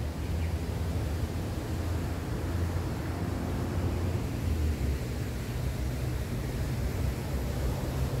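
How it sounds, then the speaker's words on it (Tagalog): Continuous rushing and splashing of water from a man-made fountain in a forest park, a steady broadband wash heard up close with no talk over it. "Narinig mo yung lalaslas ng tubig."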